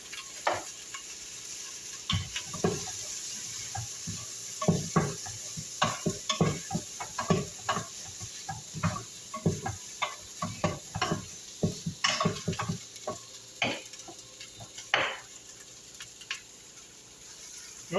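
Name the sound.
scraping pan drippings into chicken stock in pressure cooker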